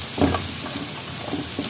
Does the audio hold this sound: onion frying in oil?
yes